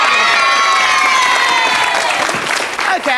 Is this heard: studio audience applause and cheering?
yes